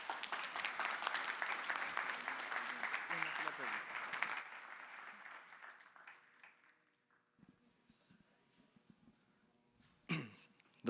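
Applause from an audience after a presentation on detecting Fusarium wilt, a dense clapping burst that rings for about four seconds, then thins and fades into a quiet room with scattered small sounds and a brief voice near the end.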